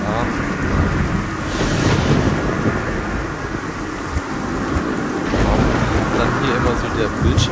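Thunderstorm in the god game Godus: steady heavy rain and wind with rolling thunder swelling twice, loud and continuous.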